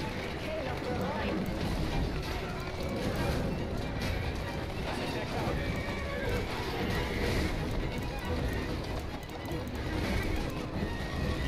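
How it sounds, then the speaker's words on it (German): Horse galloping in Assassin's Creed Syndicate, a continuous rush of hoofbeats and carriage rumble at steady loudness beneath excited talking throughout. "Junge, ey, was das Pferd alles drauf hat."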